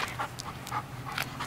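A dog pants in quick rhythmic breaths, faint and close, with a steady rasp repeating several times during an outdoor training session, no talk over it.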